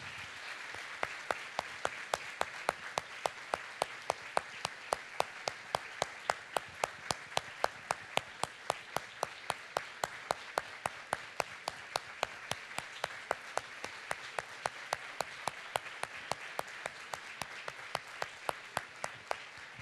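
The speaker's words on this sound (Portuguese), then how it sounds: "Você pode aplaudir as mães que estão aqui?" Church congregation applauding the mothers present at a Mother's Day service, sustained and even clapping for about twenty seconds with a steady rhythmic beat of sharp claps running through the crowd noise, moderately distant.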